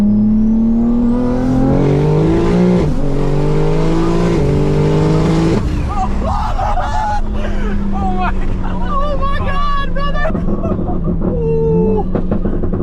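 A fast sports car's engine revs and climbs through the gears under hard acceleration at night, loud and close from inside the cabin, with excited voices shouting over it.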